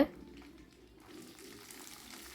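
Shallots, garlic and dried red chillies sautéing in oil give a faint, low sizzle, quiet and steady after a brief louder burst at the start, with light stirring scrapes and no talk over it.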